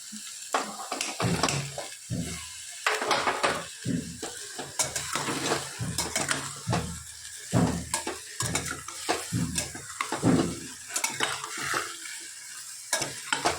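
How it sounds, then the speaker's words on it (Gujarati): Vegetables tossed into hot spiced oil in a small pressure cooker, seasoned with carom seeds, sizzle and crackle while a spoon scrapes and stirs in steady repeated strokes, close and fairly loud with no talking. "મસાલો કરીને આજે આપણે સબ્જી નાખી દઈએ"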